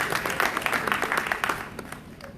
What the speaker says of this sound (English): You ought to give that a round of applause